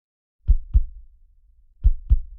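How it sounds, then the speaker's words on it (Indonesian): A heartbeat sound effect for a horror story: two pairs of deep, close, loud lub-dub thumps separated by a short quiet gap, alone with nothing else around. "Suara detak jantung semakin cepat, lalu berhenti."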